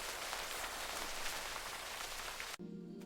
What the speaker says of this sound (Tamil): அந்த மழை சத்தம் கேக்குதா?